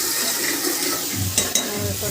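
Water is poured into a mutton curry masala cooked with ghee, giving a steady rushing, splashing pour with a couple of sharp clinks partway through.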